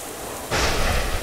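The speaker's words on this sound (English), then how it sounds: "Lightning. Thunder." In the video game Treasure Adventure Game, a soft rain hiss suddenly swells into a loud, rumbling roar of thunder and heavy rain that fills the rest of the moment, with no voices.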